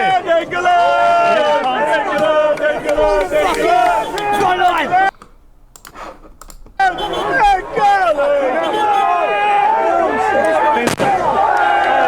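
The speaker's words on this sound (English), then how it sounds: "Firecracker has been thrown." A firecracker bursts amid a rowdy street protest, sharp loud bangs cutting through dense crowd shouting and chatter that fills most of the scene, with a brief lull partway through.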